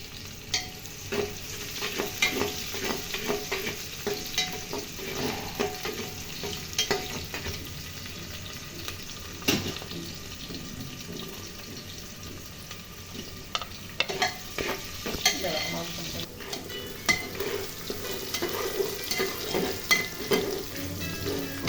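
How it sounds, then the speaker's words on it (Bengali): Chopped onion, garlic and ginger fry in hot oil inside a pressure cooker, a steady close sizzle with frequent scraping stirs throughout, no voices. "তেল গরম হলে তাতে আমি আধা কাপ পেঁয়াজ কুচি, রসুনের কোয়া ও আদা কুচি দিয়ে ৪ মিনিটের মতো ভেজে নিয়ে"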